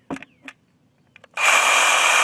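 A Sawzall reciprocating saw cuts a hole for a bath vent, starting after a few brief knocks and rustles and then running as a loud, steady, buzzing grind to the end.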